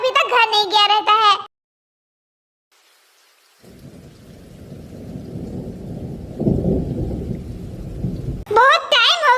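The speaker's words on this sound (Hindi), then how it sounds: "बाहर बारिश भी हो रही है" A rain and thunderstorm sound effect rumbles up after a pause, with heavy rain and a rolling thunder swell, framed by a voice speaking before and after.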